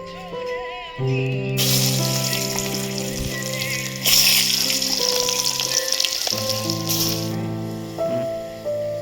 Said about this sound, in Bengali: তেল গরম হয়ে গেছে, আলু ভেজে নিচ্ছি।